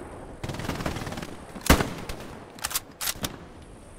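Gunfire in the World War II shooter Hell Let Loose: a distant crackle of rifle and machine-gun fire, then several sharp, louder shots nearby, including one loud crack near the middle.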